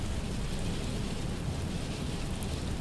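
Steady rain hisses and patters throughout as an airliner approaches the runway in a flight simulator, a constant even wash with no voices.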